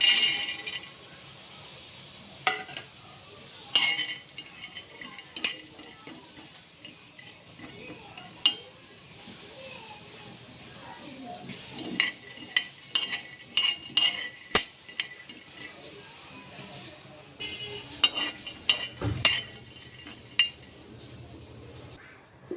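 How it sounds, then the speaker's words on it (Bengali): Quiet, intermittent dry rattling and scraping as peanuts are stirred around a dry pan, with scattered light clinks and soft background noise. "এবার বাদামগুলোকে একটু শুকনো খোলায় ভেজে নেব।"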